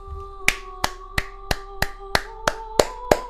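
Sharp, single hand claps repeat at an even, slow pace, about nine in a row, close by over a faint steady tone.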